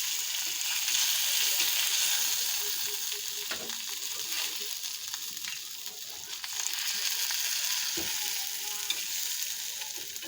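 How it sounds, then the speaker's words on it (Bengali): Onions and oil sizzling in a wok while curry is started, a steady dense frying hiss throughout with a few faint clinks and stirring scrapes, no voices. "তরকারি বসানোর জন্য কড়াইতে পেঁয়াজ দিয়ে দিছি, তেল দিয়ে দিলাম।"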